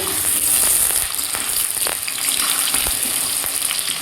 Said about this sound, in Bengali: এবার আলু ফ্রাই হচ্ছে